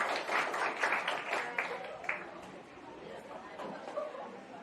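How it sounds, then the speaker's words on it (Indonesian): A group of students clapping their hands at a school orientation session, a fairly quiet, loose patter of claps that fades after a couple of seconds amid background chatter. "Boleh tepuk tangan silakan."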